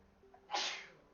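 One close, sharp sneeze bursts out after a short, soft intake of breath, then fades quickly. It stands alone against a quiet background.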